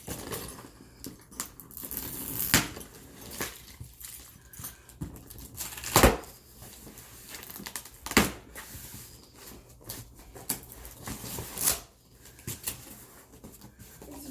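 A key slices open a package during an unboxing of Turtle Wax ceramic car-care products, making close, intermittent scratchy tearing and rustling bursts with quiet gaps between them and no talking.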